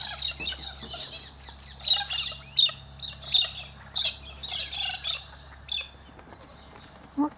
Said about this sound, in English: Oh, shut up, cockatoos.